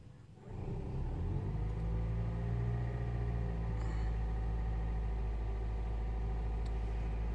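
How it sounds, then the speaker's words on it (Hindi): A Toyota Aqua (Prius C) hybrid switches on its petrol engine: after a quiet moment the engine fires within the first half second and settles into a steady, close, low idle rumble that continues to the end. "मैं गाड़ी को स्टार्ट करता हूँ पेट्रोल इंजन पे।"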